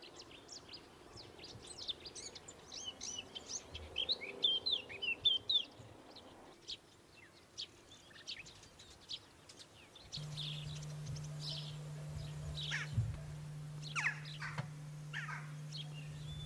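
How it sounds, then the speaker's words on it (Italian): Great tit calls at the Lake Pergusa nature reserve in Sicily: repeated short, high chirps come in bursts over quiet outdoor ambience, with a steady low hum entering partway through. "Più piccola ma quasi altrettanto colorata la cincia allegra, un passeriforme ingegnoso e vivace"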